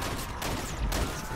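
Rapid bursts of gunfire crackle loudly and continuously in Call of Duty: Infinite Warfare, a short dense volley of shots up close.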